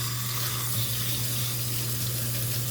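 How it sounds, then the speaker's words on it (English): Hot water from a kitchen sink's spray nozzle rinses steadily into the basin, a constant close hiss and splash with no pauses and no voices. "And our sink has the spray feature. So first I'm gonna rinse it out with hot water"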